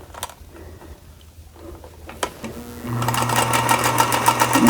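A sewing machine stitches quilt pieces for a tumbling star sampler block: a quiet start, then a steady, close, fast-running hum with rapid needle clatter that builds in the last couple of seconds.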